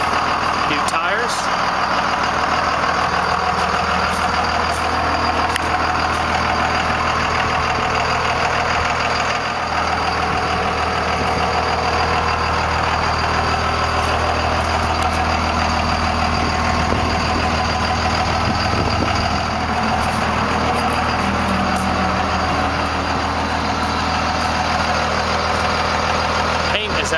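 A 1998 Dodge Ram 2500 pickup with a Cummins turbo diesel idles steadily and loudly up close, a constant low rumble with a thin turbo whine riding above it for the whole stretch.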